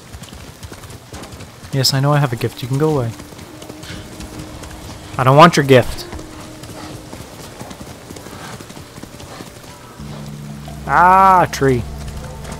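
Horse hooves clip-clop in the Ghost of Tsushima video game, a soft, steady trot running under a game character's speech and a player's talk, with other game sounds around.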